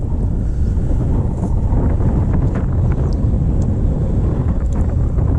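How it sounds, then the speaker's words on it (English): Strong wind buffets the microphone on a breezy beach, a loud, continuous roaring rush with no pauses or voices. "it's turning into another breezy day"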